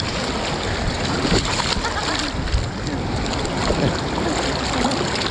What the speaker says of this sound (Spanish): Y así con el mar picado como está ahora